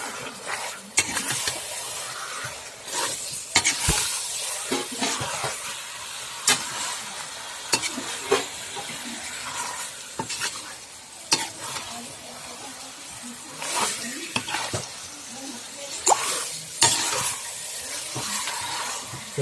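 Food fries in a pan over a gas flame with a soft sizzle broken by stirring and scraping clatter, fairly quiet and close, with occasional speech.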